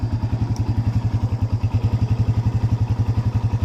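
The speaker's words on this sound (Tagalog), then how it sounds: "napakapino na yung andar nito hindi nakatulad nung unang dala na dito sa atin" A motorcycle engine, recently repaired after overheating, idles steadily nearby with an even, rapid pulsing beat and no talk over it.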